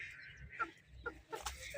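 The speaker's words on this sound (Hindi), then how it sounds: "प्योर मियाँ वाली की मुर्गी है" A hen of the pure Mianwali breed clucks in short separate bursts, fairly close but quiet against a low hum of background noise.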